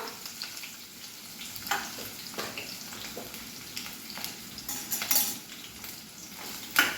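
Sliced onions hit hot oil in a pan, giving a steady close sizzle with brief clinks of a utensil and scattered crackles throughout, no voices.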